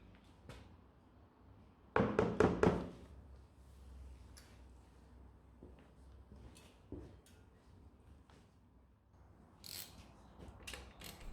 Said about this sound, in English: undo the sump plug with the 21mm socket